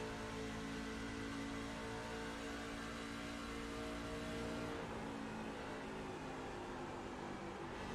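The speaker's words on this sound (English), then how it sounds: "You hear the hum of the engine." Truck-series race car engines at Charlotte humming steadily at a distance, a continuous broad drone with a slight lift midway and no talk.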